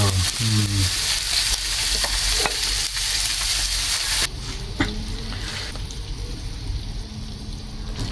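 Filipino-style pork barbecue skewers sizzle and fry steadily on a hot grill, a loud continuous crackle that drops to a softer sizzle partway through, with occasional clicks.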